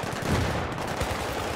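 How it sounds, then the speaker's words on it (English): Rapid gunfire in the video game Battlefield 3, shotgun blasts blurring into a dense, loud barrage that runs through the whole short moment. "A few shots of shotgun to the general direction."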